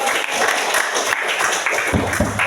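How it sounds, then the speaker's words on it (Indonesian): A group of participants at a UKIN 2023 session gives applause for another group, a short burst of steady clapping that fills the moment without voices. "tepukan untuk kelompok"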